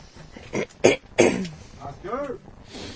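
A short, rough throat clearing close to the mic, a few harsh bursts with some murmured voice around it.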